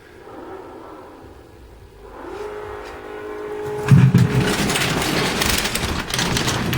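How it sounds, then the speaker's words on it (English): A car drives past outside, its engine building from a low rumble into a louder revving roar that swells and holds steady at moderate distance. "Did you hear that car?"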